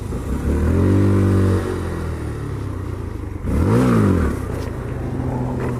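A Honda Grom motorcycle engine revs up and down with the throttle in two loud, close swells separated by a lower idle, with rising and falling pitch.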